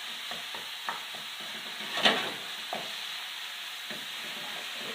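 A tomato base for Indian dal sizzles gently in a pan, a soft steady hiss broken by a few spoon stirs and scrapes, one sharper clack in the middle, with no talking.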